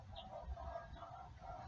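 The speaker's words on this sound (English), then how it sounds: "it's my chickens talking" Chickens cluck softly in the background, faint low murmuring calls with no voices over them.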